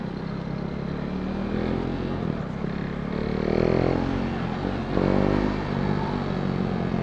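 A KTM Duke 390 motorcycle with a catalytic converter and carbon exhaust, its engine idling and revving in a steady low rumble with two rising rev swells, heard close and fairly subdued without talk.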